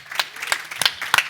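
Audience applause for a panel of speakers at a live event, heard as a short burst of scattered, uneven clapping from several people in a room, with no voices over it.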